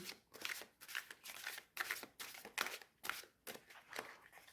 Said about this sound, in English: I need to be more conscious when I overhand shuffle decks that are slippery like this